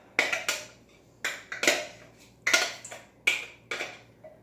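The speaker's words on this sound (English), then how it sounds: "I'm going to scoop it in this bowl" Truffle mixture is scooped out of a food processor bowl into another bowl, with a series of distinct scraping clinks and knocks of a utensil against the container in an irregular rhythm, close and clear.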